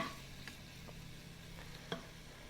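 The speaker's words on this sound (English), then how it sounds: "So you can hear it sizzling in there." Beef tips sizzle softly in a hot pan, a faint steady frying hiss with a few light clicks and stirring scrapes.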